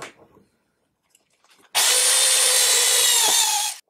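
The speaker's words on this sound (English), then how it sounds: "the universal bit to drill out these holes" A power drill with a universal bit whines steadily for about two seconds after a quiet start, a loud continuous grinding of the bit biting into metal, close up.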